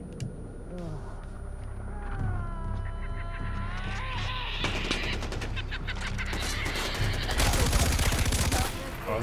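Gunfire in the video game Far Cry 4: several loud, rapid bursts of shots build toward the end over other game noises and creature calls, with a voice briefly present.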